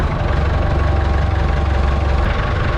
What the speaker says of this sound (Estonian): See on siis start-stop nupuga traktor.